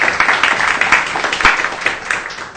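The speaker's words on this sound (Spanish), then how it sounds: "Muy bien, un voto de aplauso." A conference audience gives a short burst of dense clapping, loud and close, lasting a couple of seconds with no talk over it.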